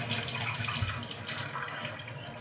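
Tap water running into a sink while raw beef is rinsed, a faint, steady splashing stream with soft irregular spatters, close by and with no voices.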